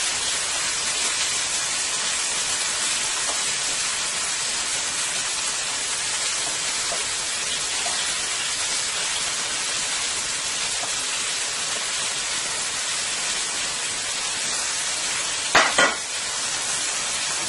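Scallion, chili pepper and garlic sizzle steadily in hot oil while being stir-fried, a loud, even hiss that runs throughout with a brief clatter near the end.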